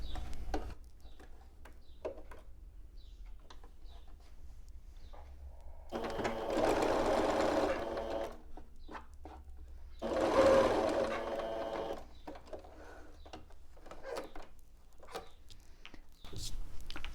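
A sewing machine stitches a patchwork seam for a pillowcase in two short bursts of close, buzzing whir, separated by quiet stretches with faint handling clicks and taps.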